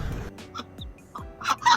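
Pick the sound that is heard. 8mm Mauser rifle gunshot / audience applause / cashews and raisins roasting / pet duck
pet duck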